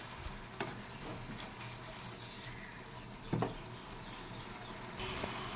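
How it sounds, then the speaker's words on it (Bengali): Pumpkin greens with mustard paste being stirred in a pan, a soft steady sizzle with faint scraping and a few brief knocks of the utensil against the pan, no talking. "সর্ষে বাটা দিয়ে বেশ ভালো করে নাড়াচাড়া দিয়ে আমি এটাকে নামিয়ে দেবো"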